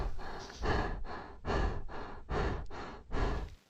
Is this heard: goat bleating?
no